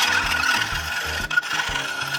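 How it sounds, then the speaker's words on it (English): Steady scraping rasp of a file worked back and forth over a metal blade to sharpen it, with a regular stroke rhythm and a brief pause near the end. "if you have a rounded file, this works really good for these shaped blades"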